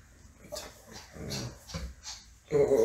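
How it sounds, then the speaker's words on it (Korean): Pet puppies at home, one jumping excitedly, giving short whimpers, yelps and small barks in bursts, the loudest near the end, with no talk. "그래서 강아지들 그냥 한번 보여드리고 싶었어요."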